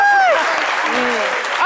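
Audience applause on a midday show: a steady wash of clapping under loud, animated talk from a presenter.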